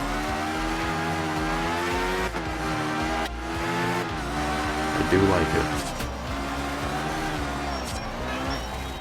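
An all-wheel drive car drifts in a racing video game, its engine droning and shifting pitch with a few abrupt gear changes and tire scrubs. Someone talks over it.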